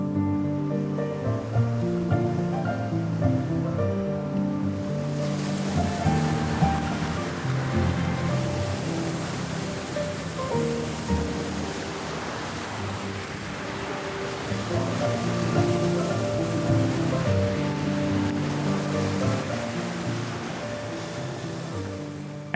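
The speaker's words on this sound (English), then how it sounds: "White waves crash endlessly against the cliffs" Rough Atlantic waves crash endlessly against the stone cliffs of the Aran Islands, a continuous loud roaring surge with rolling swells and spray, no voices.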